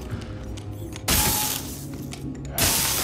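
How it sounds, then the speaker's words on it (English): A droid's restraining bolt is pulled off in Star Wars Jedi: Fallen Order, giving a sudden loud metallic crack and shatter-like burst, followed by a quieter mechanical stretch and a second sharp burst near the end. "Let's get that restraining bolt off of you."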